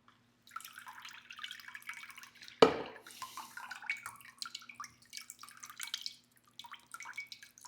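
A bright green liquid chlorophyll drink pours in a steady trickling, dripping stream for several seconds, with one sharper splash partway through, close and fairly quiet.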